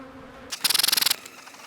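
Honey bees buzz on a packed hive frame during a beekeeper's honey check: a short, loud burst of rapid, pulsing buzzing that rises abruptly out of quiet, then cuts off and leaves faint background.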